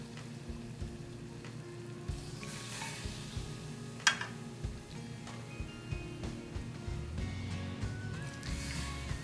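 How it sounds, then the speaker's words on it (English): Vegan Korean soft tofu stew (soondubu) in a pot baked at 350 degrees sizzles and crackles faintly and steadily, with scattered louder pops and clinks over a low background hum. "You can see that it's sizzling."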